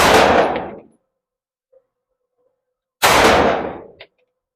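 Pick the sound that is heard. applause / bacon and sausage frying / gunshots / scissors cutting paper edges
gunshots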